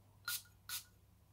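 Two short, crisp hisses of a Caesars Man cologne spray bottle (1987 fragrance by Caesars), spaced about half a second apart, close and clear against a quiet room.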